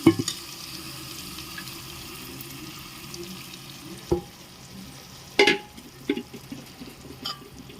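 Mung beans are stirred into a sizzling pan, with a steady frying hiss under scattered scraping and clinking of the spoon against the pan.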